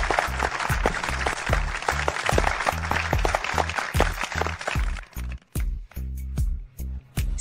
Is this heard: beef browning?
no